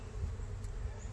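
Honey bees hum steadily at a backyard hive, a low continuous drone held at a constant level through the short stretch with no other sounds.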